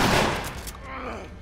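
Shotgun blasts from The Last of Us Remastered ring out in a quick burst, loud and close, with a rolling decay and a voice partly under them.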